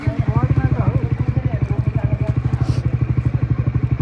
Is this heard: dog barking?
no